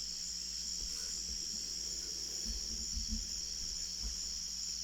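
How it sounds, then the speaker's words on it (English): Crickets chirp in a steady, continuous high-pitched trill, joined by a few faint low thumps and a constant background hum. "Cricket sounds."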